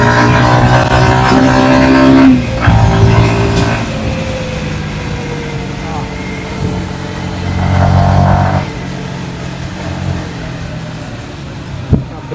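A Yamaha XSR155 motorcycle engine sounds while being ridden, its mid-pitched drone rising and falling through gear changes against wind noise, with a sharp clunk near the end.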